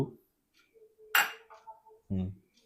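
A utensil clinks against a pot as chicken curry with coconut milk is stirred, giving a few sparse metallic knocks close by, with someone talking between them.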